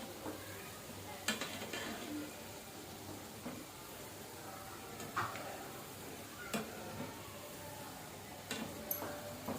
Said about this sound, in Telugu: ఇలా అవి ఫ్రై అయ్యే వరకు ఇలా కింద నుంచి పైకి ఇలా తిప్పుతూ కాల్చుకోవాలి